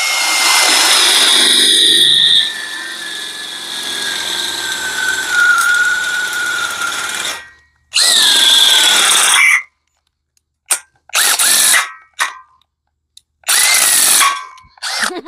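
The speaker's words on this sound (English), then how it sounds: "So you only have to drill a little bit." A power drill whines loudly for several seconds as it bores out a hole to 3/8 inch on a solar ground mount, stops, then runs in a few shorter bursts separated by pauses.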